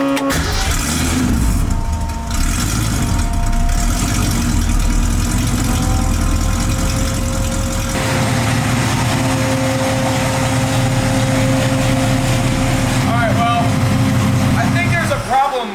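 Supercharged 1965 Ford Mustang engine idling loudly and steadily up close, with a brief change in tone partway through as the idle mixture is adjusted; someone talks over it.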